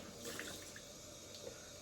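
Hot water runs from a bathroom tap in a steady, soft hiss with faint splashing, continuous and fairly quiet.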